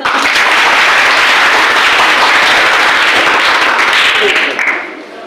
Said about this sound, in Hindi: इसके लिए मैडम के लिए एक बार ताली बजा दो।